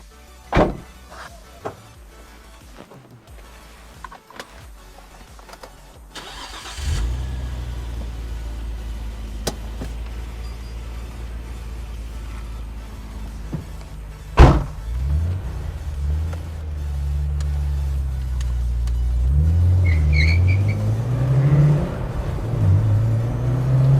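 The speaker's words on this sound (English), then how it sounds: "let's take this car out for a quick test drive" Nissan Skyline GT-R R34 M-Spec Nür starting with a thud of a door, then idling with a steady low rumble before pulling away and accelerating, engine note rising through the gears, close and loud with no talk.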